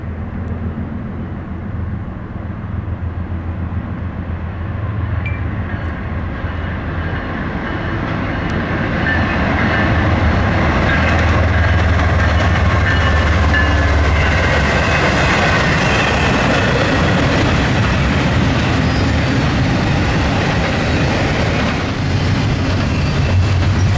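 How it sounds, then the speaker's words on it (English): Norfolk Southern freight train NS-268, hauling a mixed lineup of older locomotives, passes with a loud sustained rumble and clatter that swells and holds steady, with no talk. "The next train was NS-268 with junk power."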